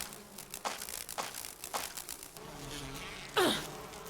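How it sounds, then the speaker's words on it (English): Bees buzzing in the video game Resident Evil REmake, several short insect buzzes rising and fading in succession, then a louder close buzz sweeping past near the end over a quiet ambient bed. "Damn bees."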